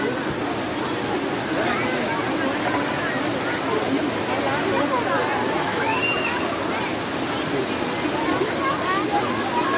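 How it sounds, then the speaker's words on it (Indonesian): Jumog waterfall in Karanganyar, Central Java, a continuous loud rush of falling water with splashing, with people talking and calling out in the background. "Inilah wisata air terjun Jumok bosku."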